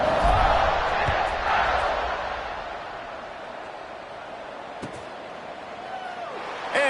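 Stadium crowd at a college football kickoff with South Carolina playing, a loud roar swelling at the start and then settling into a sustained, distant murmur with a brief thump midway.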